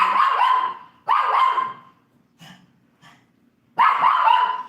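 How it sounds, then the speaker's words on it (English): A dog barks loudly three times at close range, with two faint, short yips in the pause between the second and third barks. "don't know why he's barking"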